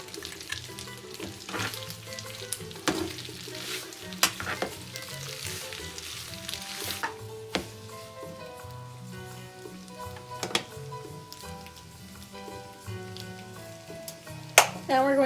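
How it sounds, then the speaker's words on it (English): Butter and Parmesan cheese sizzle in a skillet while metal tongs toss them, giving a soft continuous fry with irregular clinks and scrapes throughout. "we want to use a pair of tongs and add our 3/4 cup of Parmesan cheese. And we're just going to toss that around to get it melted."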